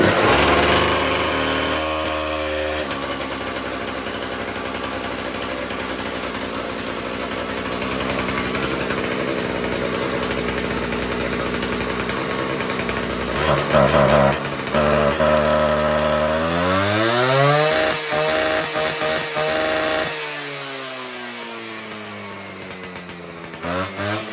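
A Husqvarna K760 gas-powered cut-off saw engine runs steadily and loud for a long stretch, then revs up and down in rising and falling whines near the end.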